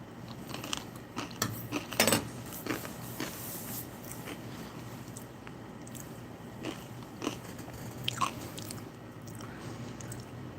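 Close, crunchy chewing of US Halal MRE lentils in masala sauce with an added crunchy topping, with repeated bites and steady mastication and no talking.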